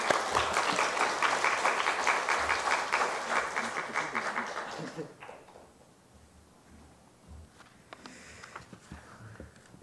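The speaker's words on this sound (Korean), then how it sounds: "자, 우리 큰 박수로 한번 환영하겠습니다." Church congregation applauds during a Sunday afternoon service, dense clapping for about five seconds that then stops, leaving a quiet room with faint shuffling and small knocks.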